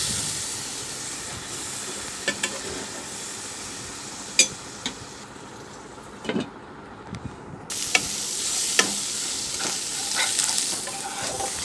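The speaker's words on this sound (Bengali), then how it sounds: "আমি একটু পানি দিয়ে মশলাটা সুন্দর করে ঢাকা দিয়ে দিয়ে কষিয়ে নিচ্ছি" Spice paste with a little water being fried and stirred in a pan, a soft, continuous sizzle and hiss with a few sharp scrapes and clinks of a spoon against the pan, growing louder toward the end.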